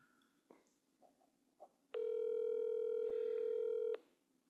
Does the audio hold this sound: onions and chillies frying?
no